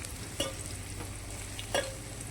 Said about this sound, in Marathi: थोडा कांदा टाकते त्याच्यामध्ये. मिरची टाकते थोडी